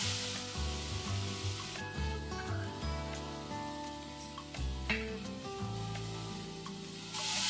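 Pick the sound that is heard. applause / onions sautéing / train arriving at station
onions sautéing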